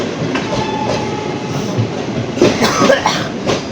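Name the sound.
passing train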